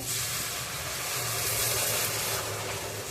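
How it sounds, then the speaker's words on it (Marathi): Steady hissing and sizzling of stingray curry boiling hard in a pot after hot water is added, a continuous bubbling rush with no voices. "हे बघा पाणी टाकाया टाकाया चांगलं बॉईल झालेलं आहे"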